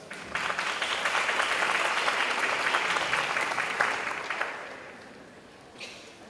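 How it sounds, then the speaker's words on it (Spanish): Loud sustained applause from a conference audience at an international circular economy forum as a speaker is welcomed, swelling quickly, holding for several seconds, then fading out with a few scattered claps. "Lo recibimos también con fuertes aplausos."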